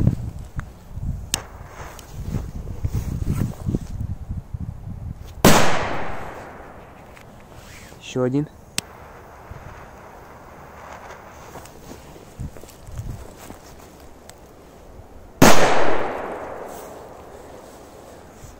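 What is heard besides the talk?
triangle firecrackers exploding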